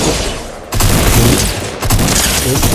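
Two loud, close shotgun blasts boom in a Fortnite Zero Build solo match, each a sudden full-range crack followed by a dense roaring tail, with no talking.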